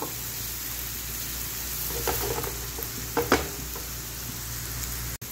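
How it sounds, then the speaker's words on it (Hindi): Onions shallow frying in a little cooking oil for egg lababdar, a continuous near sizzle with occasional spatula scrapes and pops, no talking. "बस थोड़ा सा मैं प्याज को शैलो फ्राई करूंगी"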